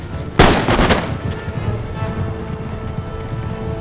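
Battle of Empire: Total War, musket and artillery fire in a close fight; a loud burst of rapid cracking gunshots near the start, then a sustained rumbling, crackling battle din with scattered distant shots.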